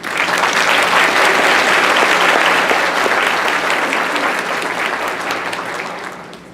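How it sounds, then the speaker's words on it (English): Sustained audience applause fills an awards banquet hall, loud and dense with many hands clapping, tapering slightly toward the end. "so let's give you a round of applause."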